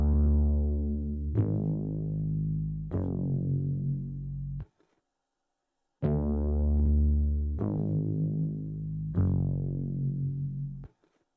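A dirty synth bass preset plays a slow root-note line of long, buzzy sustained notes, two phrases separated by a brief gap, with a faint hiss of tape noise underneath.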